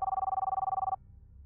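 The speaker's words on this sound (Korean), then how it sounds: "우리 집 전화가 울렸습니다" A home telephone rings with a fast electronic trill, a single steady burst lasting about a second before cutting off into quiet room noise.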